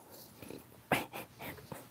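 A dog whimpers and yips in a few short, close bursts with brief pauses between them, the loudest cry near the middle, over quiet background noise.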